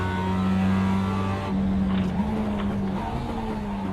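A race car engine in a racing game holds a loud, steady drone that drops in pitch as the car brakes into a corner, then settles into a lower hum.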